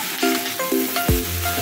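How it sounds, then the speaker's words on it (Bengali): Shrimp and ridge gourd fry in a pan with a steady sizzle, punctuated by short scraping and knocking strokes as the mix is stirred. "একটু ভালো করে ভেজে নিতে হবে, কিন্তু এটা ভাপসে গন্ধ থাকে চিংড়িগুলো।"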